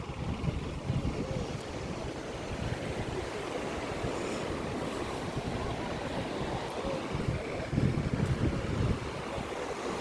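Sea waves rolling onto Palolem beach, a steady broadband wash of surf with some wind rumble against the microphone, continuous and fairly close, with no voices.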